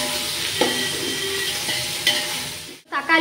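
Golden fried onions and coriander leaves are stirred in a sizzling pan for biryani. A steady frying hiss runs under a few metallic spoon clinks, then the sound briefly cuts out before the stirring resumes.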